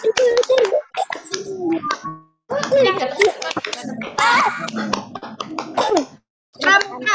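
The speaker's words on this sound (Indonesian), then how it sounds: "3 kali tepuk pramuka." A classroom of children performing the Indonesian scout clap in rhythmic patterned bursts, repeated in three rounds separated by short pauses, with chanting voices woven through the clapping.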